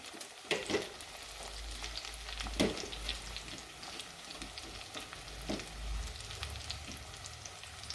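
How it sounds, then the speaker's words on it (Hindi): Matar moongre frying in oil in a clay pot, a steady close sizzle with occasional sharper spits and stirring scrapes, no talk. "ऑयल के अंदर इसको अच्छे से फ्राई कर लेंगे।"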